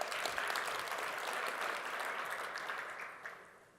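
Applause from a large keynote conference audience, a broad wash of clapping that starts strong and gradually tapers off.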